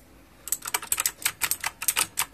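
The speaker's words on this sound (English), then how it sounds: "I'm typing." Crunchy keystrokes on an EagleTec mechanical keyboard start after a short quiet lead-in, then come as a quick, irregular run of about fifteen sharp, close clicks.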